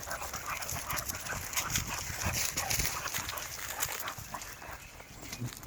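Dogs in their outdoor kennels give scattered barks and whimpers against a steady outdoor noise, moderately close and fairly faint.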